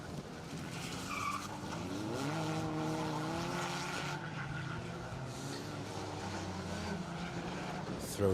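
A Mini racing car driven hard through a hairpin at a circuit rally stage, engine note rising and falling steadily as it works through the bend, with faint tyre scrabble and a commentator talking over it.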